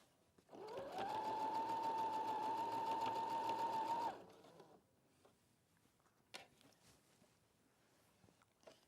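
A sewing machine runs steadily for about three seconds, stitching a seam within the seam allowance on a garment, a loud continuous whir with a clear motor hum, then stops into a quiet room with a few small clicks.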